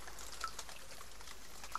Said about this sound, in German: Und die ganze Zeit tröpfelt hier noch das Wasser.